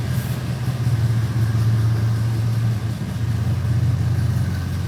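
A 1967-1972 Chevrolet with an overdrive transmission idles steadily after starting, a loud, even low engine rumble holding for about five seconds with a slight dip near the end.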